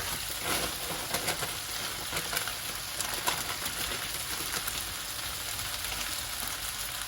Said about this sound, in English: the last step is we're going to add our spinach straight from the pack